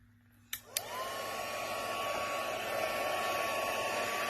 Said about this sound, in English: I'm going to put the heat gun over top of the powder